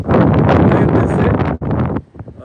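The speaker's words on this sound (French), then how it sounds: "Il y a beaucoup de vent, nous sommes dehors." Strong wind gusts roar across an outdoor microphone, loud and continuous broadband buffeting that drops out briefly before returning in weaker, choppier bursts.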